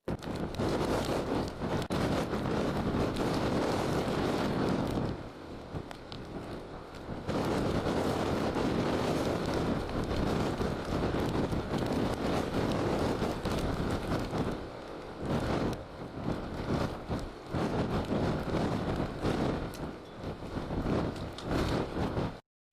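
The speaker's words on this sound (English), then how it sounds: "There's a lot of wind." Strong wind buffets the microphone outdoors, a loud continuous roaring rumble with gusts that ease briefly around a few moments before surging back, no voices present.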